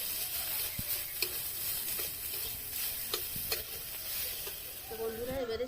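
Grated ginger and chopped green chili sizzle softly in a hot pan for a vegetable cutlet with beet and carrot, with occasional scrapes of stirring over a steady hiss, becoming busier near the end.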